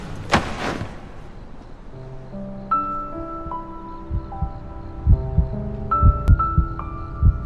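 A heartbeat sound effect thumps in a slow, steady rhythm, its low thuds growing stronger toward the end. Soft sustained musical tones play beneath it.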